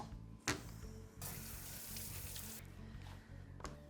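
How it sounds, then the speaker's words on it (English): Tap water runs steadily over potatoes being rinsed in a sink before chopping and boiling for mashed potatoes, a broadband splashing rush with a sharp clatter near the start and another near the end. "We're going to give these a quick rinse and then chop them into smaller pieces to boil."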